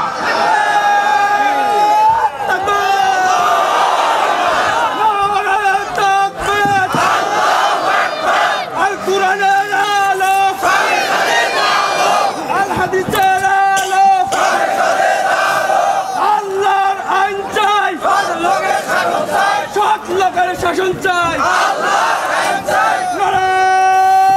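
A large rally crowd shouts slogans in unison, loud and rhythmic call-and-response bursts repeating throughout with brief gaps between chants.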